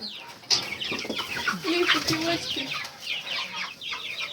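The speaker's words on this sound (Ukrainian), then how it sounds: "Найменше в мене є курчата." Chicks and chickens cluck and chirp close by in a busy, overlapping stream of short calls, with small peeps mixed among the clucks.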